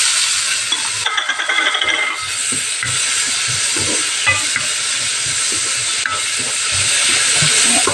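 Onion, garlic and tomato sautéing in a hot pan, a steady loud sizzle and hiss with scraping and clattering as the mixture is stirred, close up and continuous.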